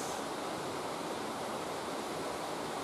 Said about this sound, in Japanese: 滝がございます